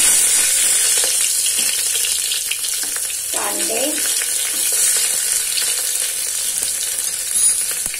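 Onions and green chilies sautéing in a pan, a continuous moderate sizzle with occasional stirring scrapes and a brief clatter midway, no talk.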